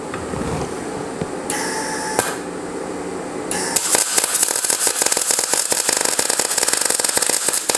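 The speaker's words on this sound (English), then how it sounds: "And now I can tack it here, and then I've made up my first bar." Tack welding a steel bar for a homemade parallel four-link suspension on a 1939 Hudson rat rod: quieter shop noise at first, then a loud, dense, continuous crackling sputter of the weld arc through the second half.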